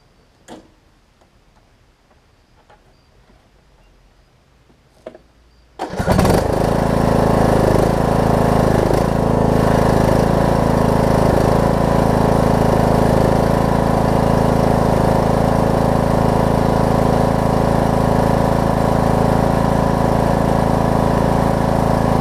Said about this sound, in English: let me crank it up and I'll let y'all hear it run